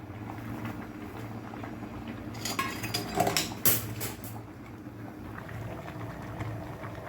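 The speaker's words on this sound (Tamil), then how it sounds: "தேங்காய் போடணும்." Grated coconut goes into a pot of traditional anchovy dried-fish curry, with a few metal utensil clinks and scrapes near the middle over a low steady kitchen hum.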